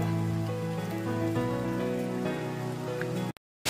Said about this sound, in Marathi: खूप असा पाऊस पडतोय